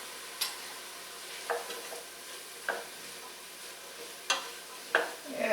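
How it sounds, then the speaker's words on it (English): A spoon stirring spicy white bean chili in a pot, several separate scraping strokes spaced a second or so apart over a faint low simmer. "I'm going to give that a little stir"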